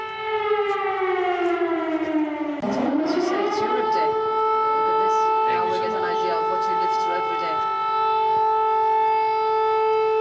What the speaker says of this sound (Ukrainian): Застала Роберта Мецолу не тільки повітряну тривогу в Києві